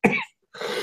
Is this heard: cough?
yes